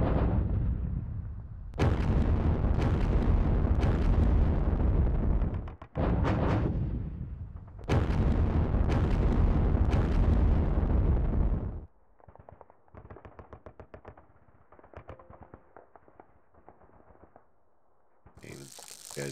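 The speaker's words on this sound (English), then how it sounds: "Artillery." Artillery barrages in the Sealion '40 wargame: a run of loud, booming explosions in heavy bursts over the first twelve seconds, then a quieter stretch of softer, scattered crackling impacts.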